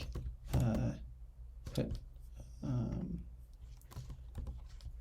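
Computer keyboard keys clatter in short bursts of rapid typing, with pauses between runs, recorded close and at moderate level while a person speaks briefly.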